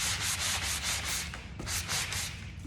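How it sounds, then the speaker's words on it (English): Sandpaper scrubs back and forth across a wooden pumpkin craft piece in rapid, steady strokes, a close, fairly loud rasping rhythm with no talking. "I like to sand in both directions."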